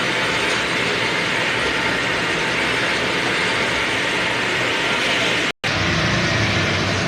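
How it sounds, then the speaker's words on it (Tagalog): A DTF printer's head-cleaning and wiper mechanism whirs and ratchets steadily with a dense mechanical clatter, broken by a brief silent gap near the end. "Tapos mag-head clean, panatiling punasan ng capping."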